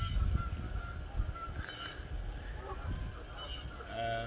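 Several geese honk in scattered calls, fairly faint and somewhat distant, over a low background rumble.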